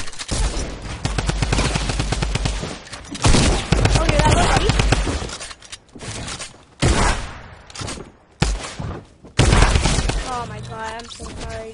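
Rapid bursts of semi-automatic gunfire in a shooter video game crack loudly in repeated volleys separated by brief pauses, with game effects mixed in.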